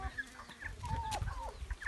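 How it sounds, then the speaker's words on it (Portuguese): Chickens and roosters on a small farm cluck in short, quiet bursts close by, a few overlapping calls in quick succession. "Tem galo grande, tem galo pequeno."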